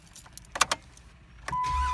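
A car engine cranks and catches after a no-start, following a few light key clicks and rattles, then settles into a steady close idle along with a thin electronic chime tone.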